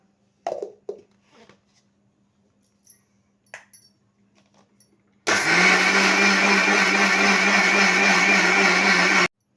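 A mixer grinder whirs loudly and steadily as it grinds soaked rice and water into batter for paddu, starting suddenly after a few quiet clinks and taps and running without a break to the end.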